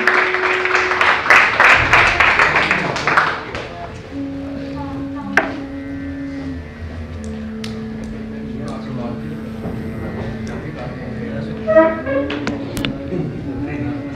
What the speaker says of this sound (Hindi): आपकी भरपूर तालियों में तशरीफ लाते हैं नदीम बाबा साहब